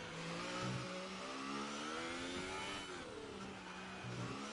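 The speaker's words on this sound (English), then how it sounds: "We've got eight cars out on circuit on the right lap." Racing cars, including Ferraris and Renaults, rev around a circuit in a racing video game, with several overlapping engine notes rising and falling steadily at moderate loudness throughout.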